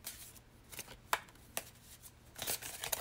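Tarot cards being shuffled by hand: several quick papery riffles and soft slaps in an irregular rhythm, close and quiet, with short pauses between bursts.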